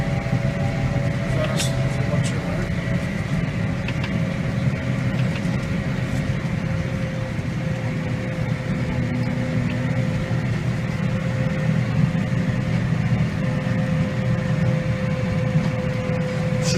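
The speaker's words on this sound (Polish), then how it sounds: "bardzo szybko leci właśnie tym ciągnikiem" Steady, loud engine drone from inside a fast-moving tractor with cold gearbox oil, with constant rumbling and occasional rattles and knocks over uneven ground.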